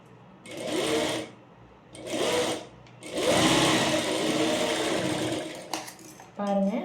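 A sewing machine stitches a garment while the armhole of a jabla, a baby's top, is finished. Three separate runs of steady whirring each last a second or more, with short pauses between them, and a brief final burst comes at the end.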